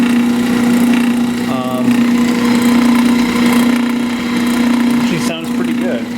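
A 1930s Delta DP-220 drill press motor, some 75 to 80 years old and fitted with an old belt, runs with a loud, steady hum close by while someone talks over it.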